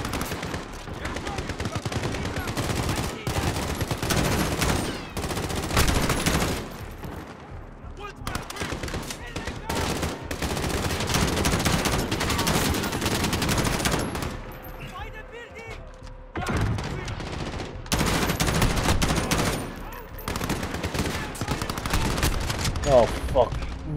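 Rapid automatic rifle fire and single shots crack in dense bursts throughout a Call of Duty: Modern Warfare mission, including an M14, with brief lulls between volleys and a few voices talking over the combat.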